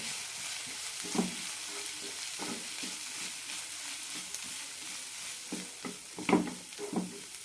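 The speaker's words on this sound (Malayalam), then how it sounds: "അര ടീസ്പൂൺ വീതം മഞ്ഞൾപ്പൊടി മുളക് പൊടി ഗരം മസാല നന്നായി മിക്സ് ചെയ്യാം" Turmeric, chilli and garam masala powders are stirred into a frying ragi flake upma in a pan, giving a steady soft sizzle with repeated scraping spoon strokes close by, no voices.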